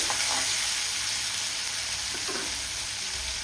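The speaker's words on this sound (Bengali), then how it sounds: "তারপরে দিচ্ছি কুচো চিনি, চিংড়ি মাছটা একটু ভেজে নেব হালকা করে" Small shrimp frying lightly in oil with black cumin seed for a Bengali kucho chingri borboti dish, a steady close sizzle with soft bubbling crackles and a few faint clinks.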